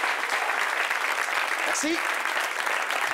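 A studio audience applauds loudly and continuously, a dense wash of clapping that holds for the whole stretch while a voice briefly speaks over it.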